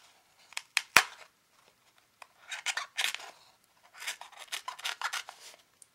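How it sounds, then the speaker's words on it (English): An X-Acto knife slices through fabric for a white masquerade mask in close, quiet scratchy strokes, a few sharp isolated cuts followed by bursts of rapid rasping. "you just cut the fabric through."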